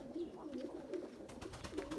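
Tumbler pigeons coo in repeated low, rolling bursts, several birds close by at a steady moderate level with no talk.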